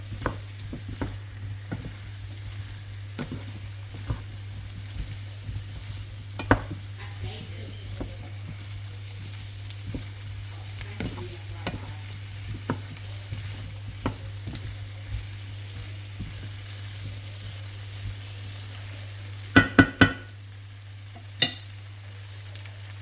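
Diced tomato and tomato puree go into a pot of homemade beef stew and are stirred. A soft low sizzle runs under scattered spoon clicks and scrapes, with a quick cluster of sharper knocks near the end.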